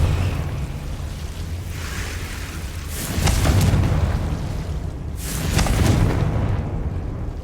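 Confringo fire-blast spells in the Hogwarts Legacy video game burst twice in succession, each a loud roaring boom with a rushing, crackling tail over a steady low game rumble.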